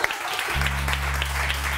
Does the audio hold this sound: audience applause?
yes